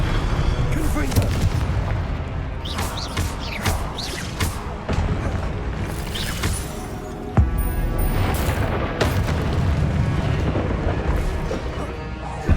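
Repeated Confringo blasting-spell explosions in Hogwarts Legacy, booming bursts with sharp transients scattered across a dense, continuous backdrop of game effects and music, loud and close throughout.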